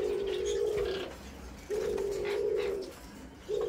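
A male Eurasian collared dove coos close by in a quiet setting, sounding three steady, level tones in an even rhythm, each held for about a second, the last one cut short.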